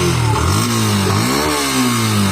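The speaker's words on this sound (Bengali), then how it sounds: "এটা যেহেতু নতুন আমরা একটু রেপ করছি।" Up close, a new Yamaha FZ-S V2 motorcycle in neutral is revved gently, its engine note climbing and dipping through a couple of short, loud throttle blips.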